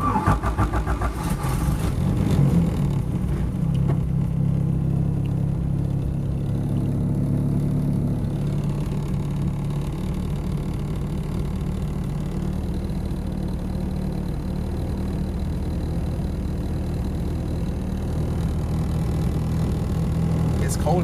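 Engine of a home-built Honda Integra modified toward Type R spec starts and idles, then revs and pulls away on a short test drive, a loud mid-pitched drone with rising and falling throttle and a voice speaking over it at times.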